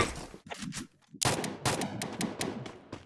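Rapid bursts of video game gunfire crackle loudly in quick succession, with sharp overlapping shots and a few brief pauses between volleys.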